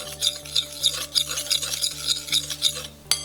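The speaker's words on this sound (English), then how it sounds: "So gently stir that in." A spoon stirs rose flavouring into a chocolate avocado mousse mixture in a bowl, making about ten regular scraping strokes close up that end in a sharper clink, with no talking.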